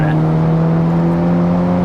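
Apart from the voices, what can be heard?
Polo GTI engine and exhaust accelerating in third gear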